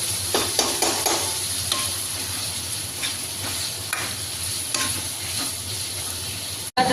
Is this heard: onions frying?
yes